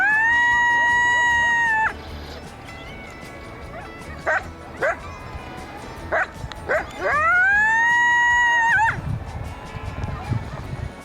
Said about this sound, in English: Also got some really cool footage of a coyote yapping, so I'll try and pop that up too if I can.